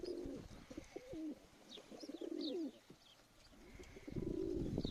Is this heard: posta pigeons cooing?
yes